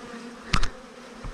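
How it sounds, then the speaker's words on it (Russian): Wasps buzz near a beehive in August, with one loud, close buzzing pass lasting a fraction of a second and a fainter second buzz shortly after, alone over quiet outdoor background. "Уже и осы начинают появляться."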